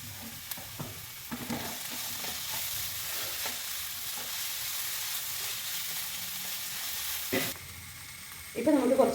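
An onion mixture with chopped green chillies sautéing for mushroom masala, a soft continuous frying hiss with occasional light spoon taps, a brief clatter near the end, no talk.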